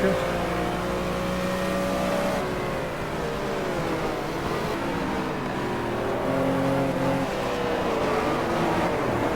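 A race car engine in the driving game GT Legends holds a steady, loud drone, its pitch climbing and dipping slightly with throttle and gear changes throughout.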